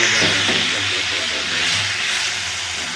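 Water poured into a hot pan of village-style fish curry with bata fish, cauliflower and potato, giving a loud, steady steam hiss that sizzles on without a break.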